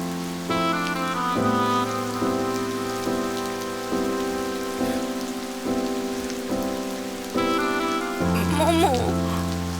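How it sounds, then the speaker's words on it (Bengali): Steady rain pours down as a continuous hiss through a dramatic scene, heard beneath sustained background music. "বৃষ্টি পড়ছে।"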